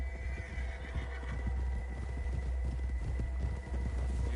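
A video-game horse whinnies over a low rumbling bed of in-game ambience and hoofbeat-like thuds, moderately quiet and without talk.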